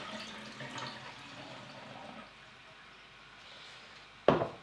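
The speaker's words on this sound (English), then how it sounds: "And let me dump rinse water." Rinse water from E6 slide film development pours out of a processing tank in a home darkroom, a soft splashing gurgle that trails off and ends in one sharp knock.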